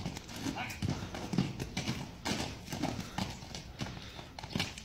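Horse hooves clip-clop in a quick, steady rhythm close by, with people talking over the hoofbeats.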